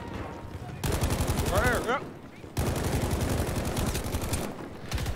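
Rapid automatic gunfire from the shooter game Battlefield V crackles loudly in two long sustained bursts separated by a short lull, with a player's voice briefly speaking over the shots.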